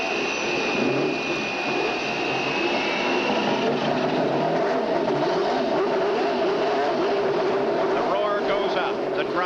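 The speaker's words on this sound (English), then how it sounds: "Gentlemen, start your engines!" CART race car engines at the 1989 Phoenix race start and rev together, building into a dense, loud roar of multiple engines after a high whine fades, with speech-like sound mixed in.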